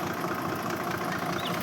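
A farm tractor in a village field idles after ploughing, its engine a steady low rumble at moderate distance. The sound is fairly faint and unbroken, with no voices.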